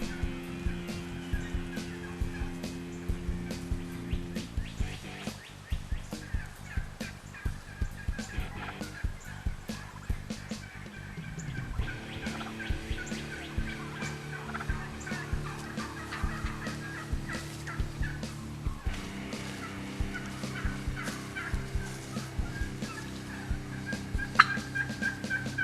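Merriam's wild turkeys gobble repeatedly during a bow hunt in Nebraska, rapid rattling calls rising and falling in bursts over a steady hum, some close and some farther off, with several hens present.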